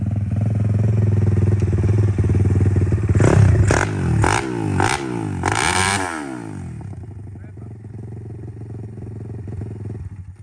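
A Daytona 190cc pit bike engine revs hard while being ridden, loud and close, with a series of sharp throttle blips and gear changes rising and falling before settling to a steady drone.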